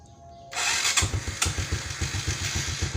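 A motorcycle engine, started by remote, cranks and catches at once, settling into a steady, loud, rapidly pulsing idle with a rough, uneven misfiring rhythm.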